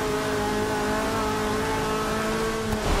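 A Mercedes race car in Forza Motorsport 6 at Sebring International Raceway, its engine holding a steady, buzzing high-rev drone with layered harmonic tones, fairly quiet and continuous, with a faint squeal near the end.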